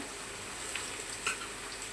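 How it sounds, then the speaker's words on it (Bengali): Ash gourd pieces frying in spices give a soft, steady sizzle with a couple of faint utensil clicks, quiet and close, with no talking. "মশলা ভাজার পরে চাল কুমড়োগুলো দিয়ে দিলাম।"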